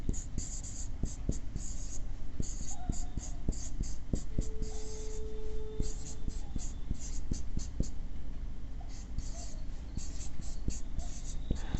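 Chalk taps and scratches out numbers on a board while multiples of 2 and 3 are written during a maths lesson, a steady run of sharp clicks and short strokes over quiet room tone, with faint speech in places.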